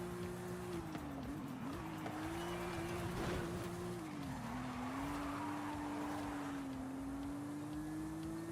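A Porsche GT3 RS race car drives in a racing video game, its engine holding a steady, buzzing drone that dips and rises slightly with throttle, plus faint tyre scrubbing, fairly quiet and without talk.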